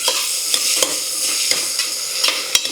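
Onions sautéed with a teaspoon of salt for potato curry hiss steadily in a hot pan, broken by a few crisp spatula scrapes and taps, close up, with no voices.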